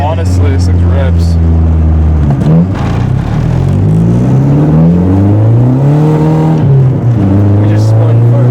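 The engine of an MK4 Volkswagen Jetta GLI with a stock intercooler revs loudly from inside the car. Its deep, harmonic roar climbs and falls through several sweeping rises, continuous and dominant throughout.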